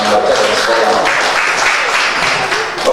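At a book launch for a collection of Papua Barat folk tales, the audience applauds the foundation with loud, dense clapping that swells close by and tapers off at the end, with faint voices underneath.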